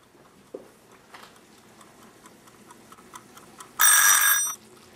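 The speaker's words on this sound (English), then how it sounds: "You'll need a timer for that." A kitchen timer goes off after five minutes of cooking caramel syrup for homemade caramel corn, a loud steady electronic ring lasting under a second, preceded by faint ticking and quiet kitchen background.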